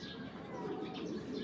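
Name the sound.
pigeon cooing, Jabra Beji breed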